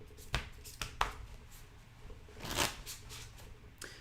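Playing cards handled and shuffled at a poker table: several crisp riffling bursts and snaps spread across a few seconds, close and fairly quiet, with no talk.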